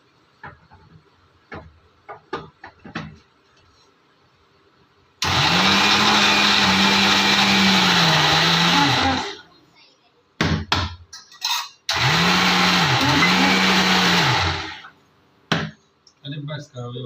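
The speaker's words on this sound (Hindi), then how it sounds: "यहाँ मैं पीस रही हूँ चटनी अपने लिए।" A kitchen mixer grinder whirs loudly, grinding chutney in two long runs separated by a short pause, with clattering and light handling sounds before and between, and no talk.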